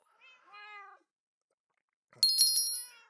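Cat meowing twice, a short clear meow followed after a pause by a louder, brighter meow, close and with no other sounds around it.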